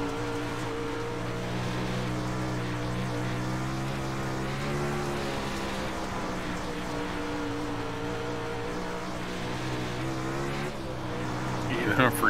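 Sprint car engines at a 360 dirt track race at Weedsport, holding a steady droning roar with layered harmonic whine that swells slightly near the end, loud and continuous without audible talk.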